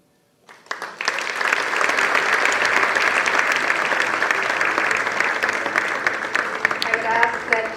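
Audience applause at the 2025 Bikila Awards ceremony, starting abruptly and holding as a steady, dense wash of clapping from a large crowd through the end.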